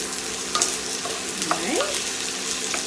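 Chopped bell pepper and mushrooms softening in a hot pan for a keto spinach salad, a soft continuous sizzle with occasional stirring scrapes and clinks, close and alone without talk.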